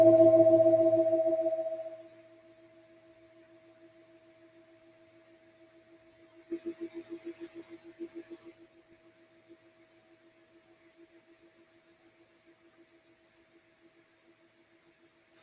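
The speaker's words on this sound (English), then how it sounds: "And this Tibetan bowl has been hammered hundreds," A hand-hammered Tibetan singing bowl is struck once, giving a bright steady ring that sustains for many seconds. Partway through it swells again with a gentle wavering pulse, then slowly fades while still humming faintly. No voices.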